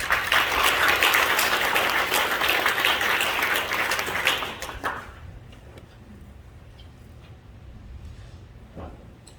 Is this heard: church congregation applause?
yes